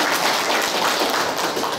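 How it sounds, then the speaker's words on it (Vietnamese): A church congregation at a Vietnamese Catholic parish applauds its newly installed priest, a dense, even round of clapping from many hands that fades slightly at the end. "xin các cụ cho cha một tràng pháo tay"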